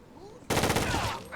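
Rapid automatic gunfire in the tactical shooter Rainbow Six 3: Raven Shield, starting abruptly as a loud, dense burst of shots that runs steadily for about a second before easing slightly, with no talk over it.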